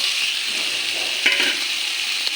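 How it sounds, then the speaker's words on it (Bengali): Fried fish pieces, capsicum and chopped onion stirred into a pan of cooked-down spice paste for chilli fish, a steady broad sizzle with a couple of soft scraping knocks of the spoon, close and without talk. "ভাজা করা মাছ আর ক্যাপসিকাম ভাজা করা পেঁয়াজ পিস পিস করে কেটে নিয়েছি ওগুলো দিয়ে দেবে"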